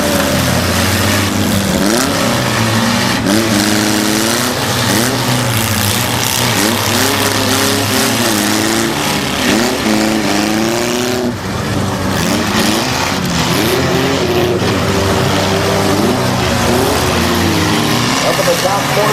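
Demolition derby cars at a 2009 Tuscarawas County derby churn around the ring, engines roaring and revving continuously with rough crunching impacts, loud and close, while an announcer talks over the din throughout.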